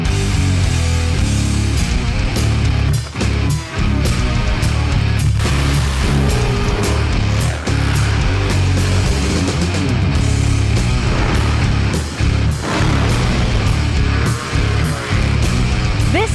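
Top Fuel drag racing motorcycles at a motorcycle drag race roar down the quarter mile, a loud, continuous, dense engine blast with repeated surges and brief dips.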